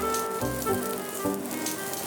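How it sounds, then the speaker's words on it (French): Food pan-frying in a hot skillet gives a steady, moderately quiet sizzle and crackle that runs unbroken throughout, with no voices. "Donc là, on va les poêler."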